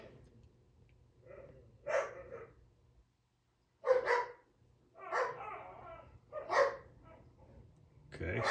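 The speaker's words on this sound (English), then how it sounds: "Dogs are playing, so if you hear a bunch of barking" Dogs playing somewhere nearby during an arcade machine repair: a few scattered barks and yips at moderate distance, separated by pauses, over a faint low electrical hum.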